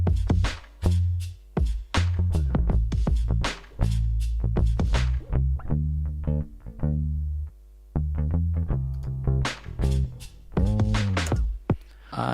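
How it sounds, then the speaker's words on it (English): Edited bass guitar line in a lofi hip-hop track, playing with punchy plucked notes over a steady beat of drum hits, loud and continuous with no voices. "Okay, I've edited the bass guitar and it sounds like this."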